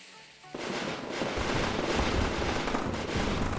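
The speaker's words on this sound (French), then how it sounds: "Ça peut être marrant de faire péter des feux d'artifice pour s'amuser." Dense, continuous crackling and popping bursts of video game fireworks going off together, loud and sustained after a brief quieter start.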